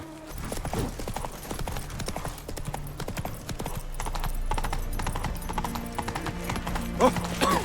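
Horse hooves clip-clop steadily on the ground throughout, moderately close, for Roach in The Witcher 3 game, with a brief whinny-like sound near the end and no talk.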